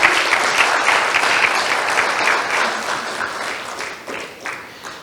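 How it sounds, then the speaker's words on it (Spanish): A church congregation applauds loudly and steadily for several seconds, a dense wash of clapping from many hands that tapers off slightly toward the end, with no talk over it. "denle palmas al rey"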